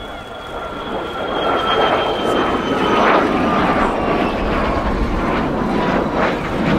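A Lockheed U-2 Dragon Lady spy plane roars through a flying display, its jet engine a loud, steady, broad rush with a faint whine and no pauses.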